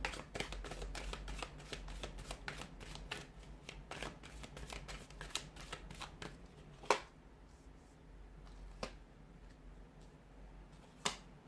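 Tarot cards are shuffled close by in quick, crisp riffling bursts and sharp snaps, an irregular flurry that thins into a few isolated clicks near the end, with no talking.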